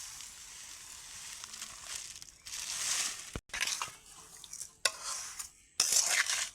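Ash gourd murabba being stirred with sugar in a pot. Scraping and stirring strokes come in uneven bursts, with soft sizzling and a sharp clink of the utensil against the pot. Fairly close and quiet, with no talking.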